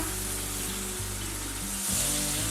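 Liquid poured into a hot pan holding a stuffed turkey leg to deglaze the browned sugars, a loud bright sizzle and hiss over a steady low hum, swelling near the end.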